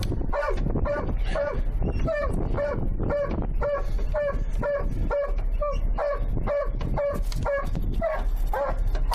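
A dog barks in a steady, rapid series of loud, close barks, roughly two per second, during a police response at a Minnesota Walmart shooting scene, with faint voices and background noise underneath.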